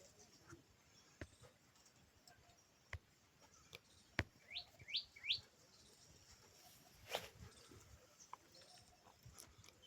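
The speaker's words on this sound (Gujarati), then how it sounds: "જો આ ચકલી દેખાય તમને," House sparrow chirping near its nest: a few short, faint high chirps clustered mid-stretch, with scattered clicks and knocks against a quiet outdoor background.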